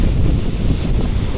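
Sea waves at Mandarmani beach surge in hard enough to reach a hotel, a steady loud roar of surf heavily buffeted by wind rumbling on the microphone.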